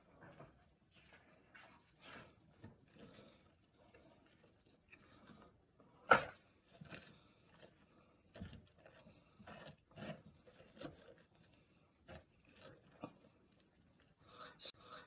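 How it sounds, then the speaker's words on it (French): Close, quiet scraping of a spoon scooping seeds out of a potiron pumpkin for a velouté. Soft, irregular scrapes and clicks come in scattered strokes, with one sharper knock partway through. "avec une cuillère, on va épépiner le potiron."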